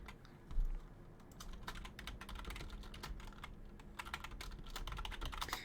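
Quick, uneven keystrokes clatter on a computer keyboard in a quiet room, a steady run of soft clicks with a low background hum and no voices.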